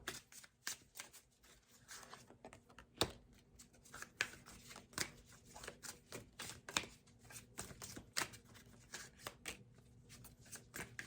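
Tarot cards are shuffled by hand at close range. Quiet, rapid riffling and clicking bursts repeat in an uneven rhythm, with no talk over them.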